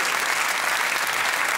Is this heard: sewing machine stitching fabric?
no